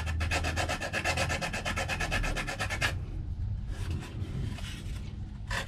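Rapid, evenly spaced rasping strokes of sandpaper mounted on an ice-cream stick smoothing a laser-cut wooden RC tugboat kit piece, loud and close for about three seconds, then fading to faint, scattered rubbing.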